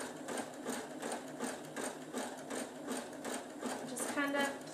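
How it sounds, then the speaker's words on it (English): A sewing machine throws stitches into a coiled corded fabric bowl as it is turned, its needle thumping in a fast, steady rhythm across a continuous whirring run, with a voice speaking faintly underneath. "as I turn, I'm going to have it throw some stitches in"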